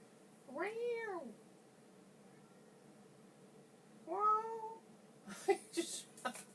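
A pet cat meows twice, clear and close, with a pause between the calls and a soft rustle and clicks afterward in a quiet room.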